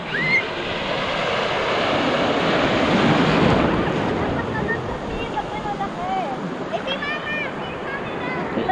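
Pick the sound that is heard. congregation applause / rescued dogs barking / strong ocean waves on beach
strong ocean waves on beach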